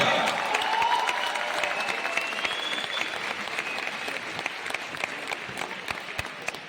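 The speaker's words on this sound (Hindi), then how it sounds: "हमारे ब्रॉन्ज डायरेक्टर्स के लिए बहुत जोरदार तालियां" A hall audience at a direct selling company awards event claps for bronze directors, a loud, even wash of applause with a few scattered cheers that slowly tapers off.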